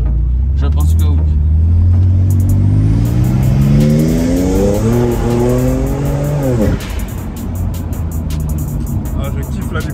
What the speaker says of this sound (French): je kiffe la décompression du turbo